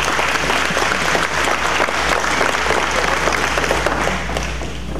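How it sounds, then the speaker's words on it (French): A graduation audience at an international college ceremony applauds as the founding director comes to the podium, with sustained, dense clapping over a low steady hum in a large hall. "Sous vos applaudissements, s'il vous plaît"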